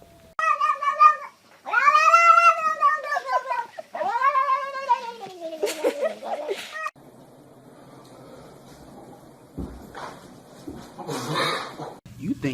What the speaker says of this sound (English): there is a cat in the hat.